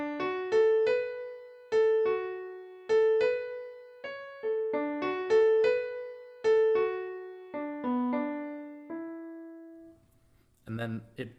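Little Vikings theme music moves into its B section: a bright, plucked or mallet-like melody of repeated short notes over a bass line, steady and fairly loud, ending in a brief noisy burst.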